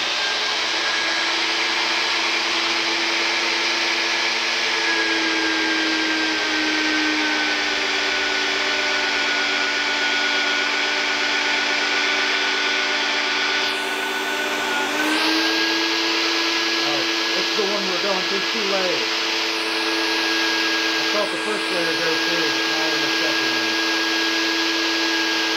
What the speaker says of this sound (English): Magnets on. Drills on.